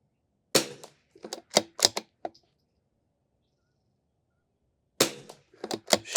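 Rifle shots from a DI Precision Vudoo 360 at an outdoor range while fouling the bore and confirming a 50-yard zero: a cluster of sharp, loud cracks, then silence, then another rapid group of reports.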